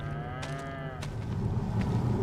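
Cows in the Farming Simulator 25 video game moo on an Ashton Corners, Wisconsin farm, with a clear moo early on followed by lower lowing over a steady background hum, and no talk.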